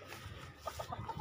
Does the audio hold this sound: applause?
no